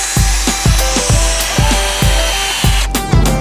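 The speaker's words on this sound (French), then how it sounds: "C'est parti pour commencer à visser les planches." A power drill drives screws into wooden planks outdoors while building a large vegetable garden, with about eight short whirring bursts in a steady rhythm, close and fairly loud.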